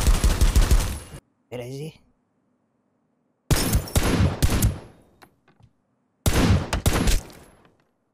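Video game gunfire comes in three loud rapid bursts of automatic shots separated by silence, with a player's voice briefly heard between them.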